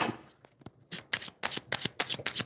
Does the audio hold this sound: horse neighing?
no